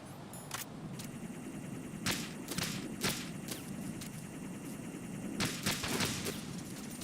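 Suppressed AK rifle gunfire in the Metal Gear Solid video game, sharp muffled shots fired singly and in short bursts over a constant noisy game background, with no talking.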